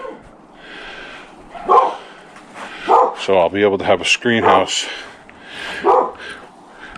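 A dog gives a few short barks and yips in the middle, close by, between and under a man's speech near a pop-up canopy tent.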